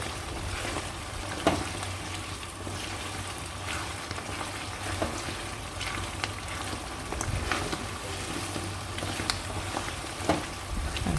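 Fresh Italian pasta being stirred and tossed in a hot pan, a steady close sizzle of frying with soft scraping and stirring clicks running throughout, no voices.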